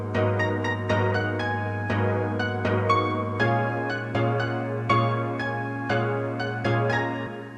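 Lo-fi piano from the Gels Keys of Life preset in Kontakt plays a steady run of soft chords and single notes with a little reverb, over a constant low hum, alone and fairly close.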